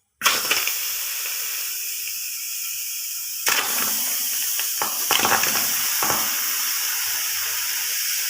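Chicken for charsi karahi hits a preheated non-stick karahi with a loud, close, steady sizzle and hiss that flares up again partway through with a few sharp crackles.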